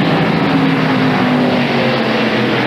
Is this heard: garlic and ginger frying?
no